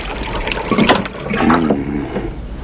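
Water poured from a jug into a glass in a film scene, a close splashing, gurgling trickle lasting a couple of seconds with no talk.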